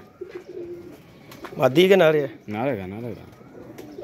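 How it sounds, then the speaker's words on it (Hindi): Pigeons cooing close by in a pigeon-keeping setting, with several throaty, wavering coos in the middle of the stretch, while someone talks over them. "ये टैडी कबूतर आया"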